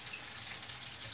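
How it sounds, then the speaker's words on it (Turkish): Food fries gently with large seeds in a pan, a faint, steady sizzle with soft crackles and no voices. "İri iri böyle tohumlar ile beraber kızaracak"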